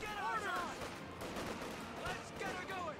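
Machine gun fire in Company of Heroes 2, a woodland crossing battle, with rapid bursts and scattered gunfire crackling steadily beneath continuous commentary.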